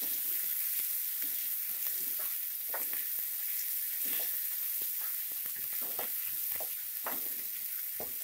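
Tomatoes frying in a pan with pepper chicken: a constant close hiss of oil under scattered scrapes and knocks of the stirring spoon, with no voices.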